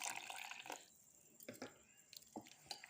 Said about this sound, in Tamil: இப்போ இது கூட நம்ம தண்ணி சேர்த்து கலந்துக்கலாம்.